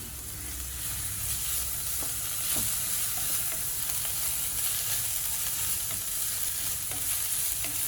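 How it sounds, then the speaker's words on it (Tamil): Onions sizzle steadily in a hot pan, a continuous crackling hiss with occasional stirring clicks, close and moderately quiet. "வெங்காயம் நல்லா வதங்கணும். வதங்கினா தான் நல்லா டேஸ்ட்டாக இருக்கும்."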